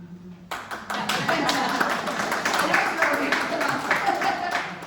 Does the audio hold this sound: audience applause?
yes